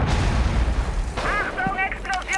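Loud, deep explosion blast in the tactical shooter Rainbow Six Siege, a heavy rumbling boom filling the opening second before fading under in-game noise, with voices speaking over the tail.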